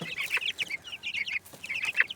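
Young chickens that have climbed a little ladder back into their cage on a cold morning cluck and chirp busily, many overlapping short calls close by and fairly loud, with no talking.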